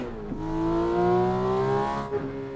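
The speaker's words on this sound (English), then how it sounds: "I like the sound of this Porsche." A Porsche engine in a racing simulator game revs up and holds a rising harmonic drone for about two seconds, then drops off with a brief shift blip near the end, loud and up close with no talk.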